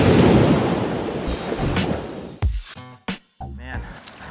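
Active ocean surf from a boat at sea, a loud rushing wash of waves with wind buffeting the microphone for the first couple of seconds, followed by someone speaking.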